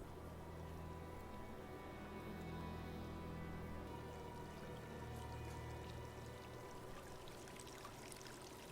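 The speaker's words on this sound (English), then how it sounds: "streaming water kind of throws the monsters off" Water streams and pours steadily in a tense scene from the film A Quiet Place, a continuous rushing wash over a low hum, loud and close throughout, with no talk.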